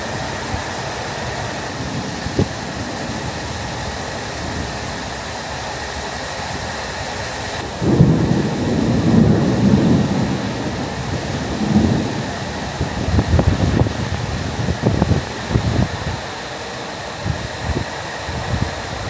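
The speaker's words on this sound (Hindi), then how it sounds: "अमेरिका के अंदर इस तरह के तूफ़ान और बरसातें होती हैं," A thunderstorm over downtown Houston brings steady heavy rain with long rolling rumbles of thunder, growing louder in the second half with sharper cracks, no voices.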